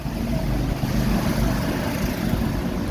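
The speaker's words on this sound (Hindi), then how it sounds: "ट्रैक्टर जा रहा है" A tractor passes by outdoors, its steady low engine rumble and drone continuous and fairly close throughout, with no voices.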